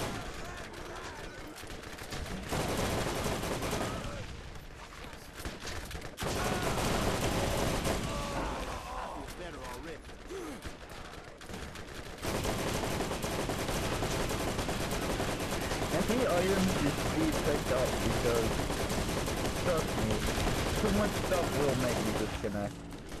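Gunfire in the video game Borderlands, rapid bursts of weapon fire and impacts against tough enemies, continuous and loud with brief lulls, mixed with game sounds and someone talking over the action.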